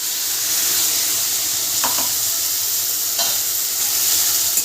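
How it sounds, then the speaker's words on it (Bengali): A dry red chilli tempering sizzles in hot oil ahead of a pabda fish curry, a bright steady crackling hiss with two brief spatter bursts, close and fairly loud with no talk. "এবার তেলের ভেতর দিয়ে দিচ্ছি একটা শুকনো লঙ্কা ফোড়ন"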